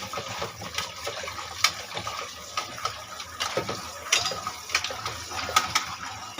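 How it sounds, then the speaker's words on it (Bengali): Salted okra being rinsed under water in a home kitchen, with soft splashing and trickling mixed with light clinks and handling noises throughout, fairly quiet and steady with occasional sharper clatters. "আমি এখন এটাকে ধুয়ে উঠিয়ে নিব"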